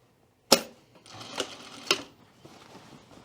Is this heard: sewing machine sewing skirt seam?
yes